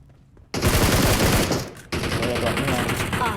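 Automatic-weapon bursts in PUBG Mobile, loud and continuous rapid fire that breaks off briefly and then resumes, with a player's voice talking over the shooting.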